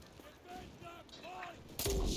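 In the video game Enlisted, someone talks over quiet background noise before a sudden loud burst of gunfire breaks in near the end.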